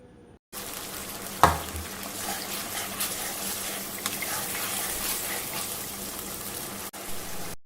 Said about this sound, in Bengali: এবার তেলের মধ্যে মশলাটা দিয়ে বেশ ভালো করে কষিয়ে নেব